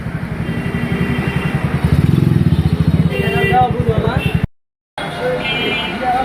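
Motorcycle engine running near a bike repair shop, a steady pulsing throb close by with faint voices at times and a brief dropout to silence near the end.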